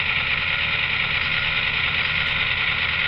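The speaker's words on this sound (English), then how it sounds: "I'm revving up the locomotive." An N or HO scale AC6000 model locomotive's electronic sound system revving up, a steady engine drone with a strong mid-band hum held at constant loudness throughout, close and without speech.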